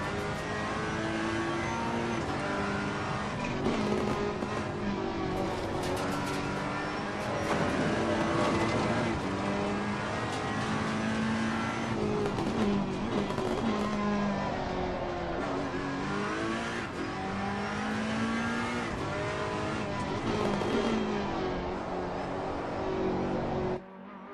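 A turbocharged race car engine roars continuously in Assetto Corsa Competizione, holding loud, steady revs with repeated rises and shifts. The engine runs throughout at close range, with no clear talking over it.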